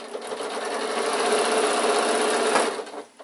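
A sewing machine runs in one continuous burst down a seam of an insulated picnic bag, its rapid needle buzz loud and steady before slowing and stopping near the end.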